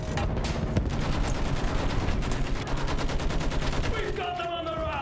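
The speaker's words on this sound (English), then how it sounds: "Use that machine gun. Mow them down." Machine gun fire in a World War trench video game, rapid rattling bursts running continuously and fairly loud, with game sounds and faint voices mixed in toward the end.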